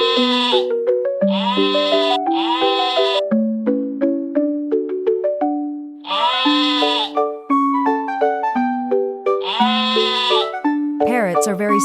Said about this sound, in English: Sheep. Con cừu.